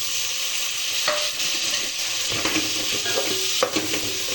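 Tomatoes frying in spiced masala in a pan, a steady close sizzle broken by several scraping stirs of a spoon.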